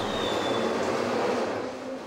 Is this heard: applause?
no